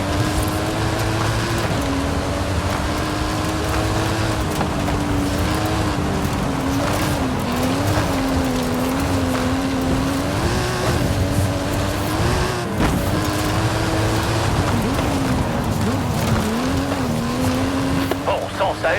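A stunt car in Forza Horizon 5, fitted with an upgraded engine and suspension, holds a steady, loud engine drone whose pitch rises and dips with throttle under continuous music and talk.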